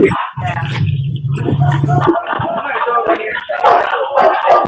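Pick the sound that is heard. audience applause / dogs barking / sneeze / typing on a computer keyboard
dogs barking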